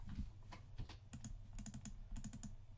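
Rapid clicking bursts come from a malfunctioning battery-powered wireless computer keyboard, with clustered keystrokes in quick irregular runs heard up close and no talking.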